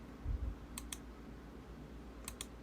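Ctrl+C is pressed on a computer keyboard: two quick pairs of sharp key clicks, close and fairly quiet, set against a faint low room hum with a soft thump near the start.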